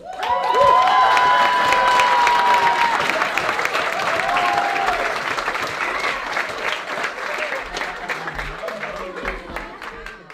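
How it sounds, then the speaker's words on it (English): A crowd claps and cheers for courageous young skiers, the applause loud at first and gradually easing off, with whoops and voices rising briefly above the clapping. "Big hand of applause to these courageous skiers"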